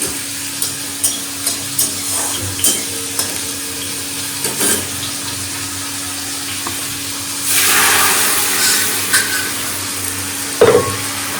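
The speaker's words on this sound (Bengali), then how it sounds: "এটা ভাজা ভাজা হোক আর ডালটা সম্বরা করতে দেবো" Spices with cumin powder, salt and turmeric fry in a pan for tempering dal, a loud close sizzle broken by repeated scraping taps of stirring and a burst of hissing midway.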